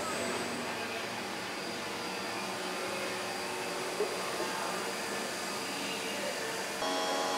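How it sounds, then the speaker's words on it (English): A CNC granite-cutting machine running through an automatic tool change, heard as a steady, moderately loud mechanical whir and hum with a faint clunk near the middle and a shift in tone toward the end. "And one more tool change. You gotta love a machine that puts its toys away."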